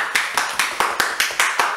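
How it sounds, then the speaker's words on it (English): A small group of people clapping together in a room, quick sharp claps in uneven bursts, close and fairly loud with no talking over them. "Everyone clap it up."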